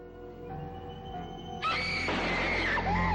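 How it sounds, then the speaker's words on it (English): A calm, tonal stretch of an album gives way abruptly to a loud, sustained scream that stays piercing and wavering to the end, with no one talking. "Literally do that to jump scare you in the middle of this like chill album. There's like fucking loud ass scream."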